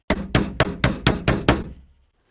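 Six firm knocks on the door of an empty house in an abandoned village, struck in a quick steady rhythm, close and loud, with a short ring fading after the last blow and no voices.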